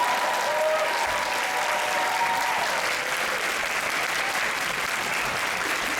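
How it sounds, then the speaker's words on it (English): A convention audience at the D23 Expo claps for panelists, loud and sustained applause from a large crowd with a few faint voices mixed in, steady from start to finish. "Let's give them a round of applause."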